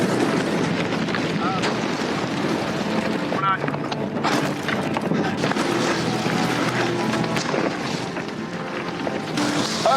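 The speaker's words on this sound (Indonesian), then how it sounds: "keadaan cuaca tiba-tiba memburuk dengan kekuatan angin yang semakin kencang" Strong wind roars without a break at a wildfire, a loud broadband rush with buffeting gusts across the whole stretch. Faint voices sit underneath.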